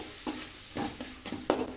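Chopped coriander stirred into tomato gojju in a hot pan, with a steady sizzle under several rhythmic scraping strokes of a spoon, close and fairly loud, no talking.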